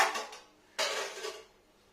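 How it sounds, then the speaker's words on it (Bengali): Paneer being cut into pieces on a metal plate: two scraping, clattering strokes of a blade against the plate, the second sharper and starting abruptly, close and fairly quiet. "এবার কাটবো থালার মধ্যে পিসেস করবো পনিরটাকে"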